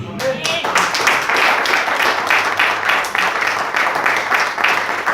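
A church congregation applauding together, a fairly loud, steady run of clapping lasting several seconds, with some voices mixed in.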